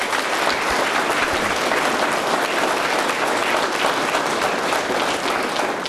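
A large audience applauds the fire department at an awards event in Joliet, steady, dense clapping that fills the room at full volume throughout.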